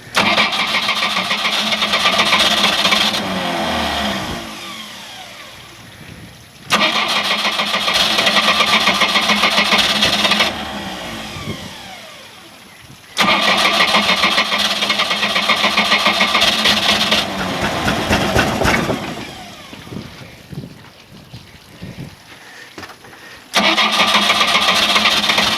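A 3.7L MerCruiser boat engine cranks in repeated long bursts, each roughly three to four seconds of steady loud starter churning, separated by short pauses, without clearly catching and running.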